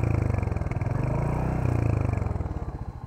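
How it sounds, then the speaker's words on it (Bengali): A Royal Enfield Hunter 350 motorcycle engine runs steadily at idle, a close, low, thumping single-cylinder beat pulsing evenly throughout with no voices. "ইঞ্জিনের সাউন্ড শুনো"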